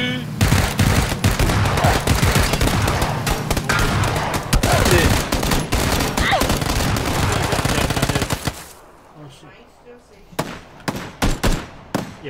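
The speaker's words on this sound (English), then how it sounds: "Shots fired, homie!" Automatic gunfire in the battle-royale game PUBG, dense rapid bursts running loud and continuous for about nine seconds, then a few sharp isolated shots after a brief lull.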